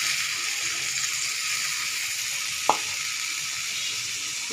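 Steady hiss of hot oil frying as potatoes cook for a Bengali ilish (hilsa) fish curry, with one brief sharp clink midway and no talk.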